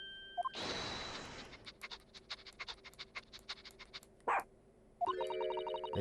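Chief Inspector Toby, a dog in the video game The Great Ace Attorney Chronicles, panting in quick rhythmic puffs with a short bark-like yelp, amid game chimes and interface blips, fairly faint.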